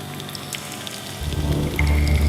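A rain recording plays back from a cassette tape loop on a Tascam 414 four-track, with steady patter and scattered drops that swell into a louder, fuller wash with a low hum partway through.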